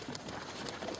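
Pigeons coo near a dovecote in a short burst of soft, throaty calls over a busy outdoor background.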